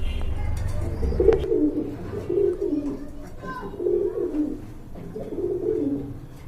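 Teddy pigeons coo up close in low, rolling, repeated calls with a steady rhythm, and a few faint chirps sound in the background.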